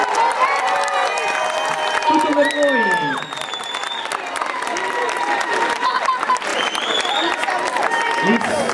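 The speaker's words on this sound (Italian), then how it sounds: "prendetevi un applauso!" Lively applause and cheering for schoolchildren at a parents' committee event, with shouts and whoops over dense clapping, while a voice calls out through a loudspeaker.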